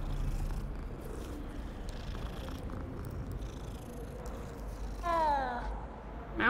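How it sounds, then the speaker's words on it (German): A cat purrs steadily and softly in the video game Hogwarts Legacy, then gives a short, clear meow near the end, with a faint low background hum. "Oh, noch eine Katze, guck mal."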